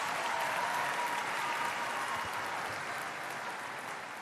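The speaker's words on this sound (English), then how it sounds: "Please give a round of applause to Executive Director Dan Nichols." An audience at a national science tournament's opening ceremony applauds for the executive director, giving a steady, even wash of clapping from many hands that holds throughout and fades slightly at the end.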